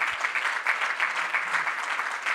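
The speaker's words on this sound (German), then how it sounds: "erst nochmal einen Applaus für Professor Knoppmeier" Audience members at a forestry and wildlife conference applaud a professor, steady, fairly close clapping from a crowd that holds an even level throughout without talk.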